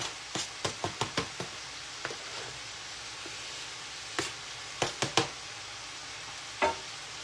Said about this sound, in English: now that my chicken and my beans have been stir frying for a little bit